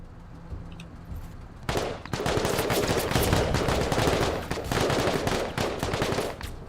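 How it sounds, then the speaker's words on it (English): Sniper rifle shots in the game Menace, set in a desert mission: a quiet stretch, then a sudden loud blast that leads into several seconds of dense, continuous gunfire and rumbling impacts. "I want to test our fancy new sniper rifle"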